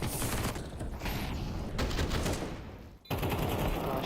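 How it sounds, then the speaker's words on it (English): Sustained gunfire from both sides during a Counter-Strike esports match at IEM Sydney 2023, dense and continuous bursts with a brief dip near the end before the shooting resumes loudly. "Shooting, though, from both sides."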